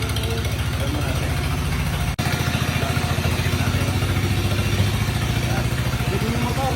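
A motorcycle engine idles nearby with a steady, loud, rapid low thumping. Its rhythm is briefly broken once, and a voice talks faintly underneath.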